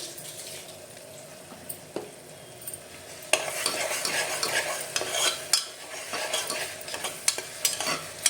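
Masala with turmeric frying in a pan for a mutton sukka, a low sizzle that turns busier partway through, with repeated stirring scrapes and clacks of a spoon against the pan, close and without talk.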